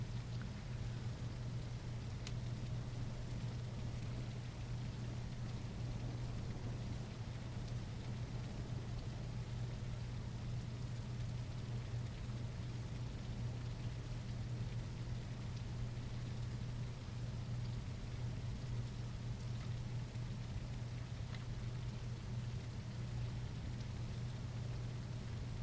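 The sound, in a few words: rain falling in the video game The Isle Evrima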